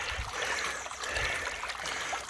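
Water flows and trickles in a creek with a soft, continuous babble, close but quiet, carrying small bubbly splashes and some low rumbles.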